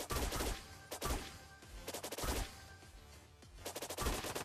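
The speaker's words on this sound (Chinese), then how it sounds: "不加倍速了，就沉浸式听枪声下饭吧" Gunfire in the Eggy Party video game comes as loud, rapid bursts of automatic shots, several volleys separated by short pauses.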